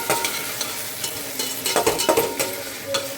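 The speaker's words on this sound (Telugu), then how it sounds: "వేసి బాగా కలపాలి." A spoon stirs and scrapes a chicken biryani mixture in a pot in a home kitchen, giving soft, uneven scraping strokes over a low sizzle, close by and moderately loud.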